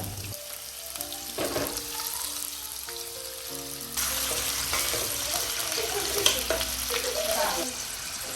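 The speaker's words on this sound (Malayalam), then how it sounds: "ഞാനിവിടെ സൺഫ്ലവർ ഓയിലാണ് യൂസ് ചെയ്തിരിക്കുന്നത് ഇനി ഡയറക്റ്റ് നമ്മൾ കട്ട് ചെയ്ത് വെച്ചിരിക്കുന്ന എല്ലാ വെജിറ്റബിൾസ് ഇതിലേക്ക് ഇട്ട് കൊടുക്കുക" Cut vegetables tipped into hot sunflower oil in a pan sizzle and crackle steadily, the frying growing noticeably louder about halfway through, with faint tonal sounds in the background and no talking.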